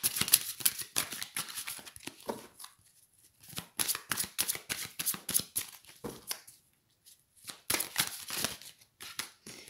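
Tarot cards being shuffled by hand, with quick riffling bursts of crisp papery flicks broken by short pauses, close and fairly soft, with no talking.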